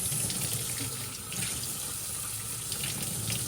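Water runs steadily from a tap into a Dyson vacuum part being cleaned, a continuous, even rush, close by and fairly loud, with no voices.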